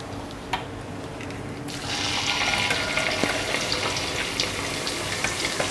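Hot oil sizzles and bubbles in a pan while homemade hair oil is cooked, a soft hiss that rises sharply to a steady loud frying crackle after a quieter start.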